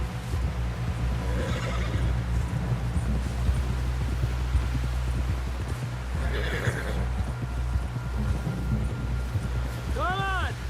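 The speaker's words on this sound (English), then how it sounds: "Someone help John down off this horse" A horse whinnies and snorts amid hoofbeats and rumbling ambience in the video game Red Dead Redemption 2, with a sharp neigh near the end.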